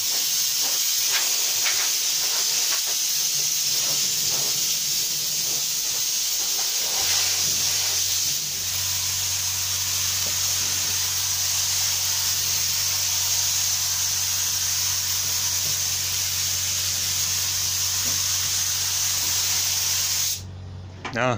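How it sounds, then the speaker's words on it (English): A steady, loud hiss of a spray gun spraying two-part PU enamel paint onto wardrobe doors runs continuously, with a low hum joining partway and the spraying cutting off abruptly at the end. "give the doors a quick blow over just before I spray the next"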